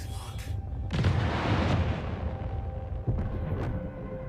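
Missile explosions in a space combat video game: a heavy boom followed by a long rumbling roar, then a second sharper blast, loud and close, with a voice in the background.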